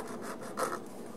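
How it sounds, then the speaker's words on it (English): A few light file strokes taking burrs off a part from an easy-build steam locomotive kit, soft faint rasping over about a second, close and quiet. "I want to get the burrs off of here."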